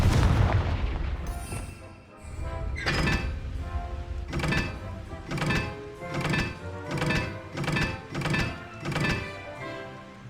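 Blasting-curse explosions from Hogwarts Legacy strike in a fast series of punchy, close booms, roughly eight thumping impacts in quick rhythm, each followed by a brief crackling tail, with game music running beneath.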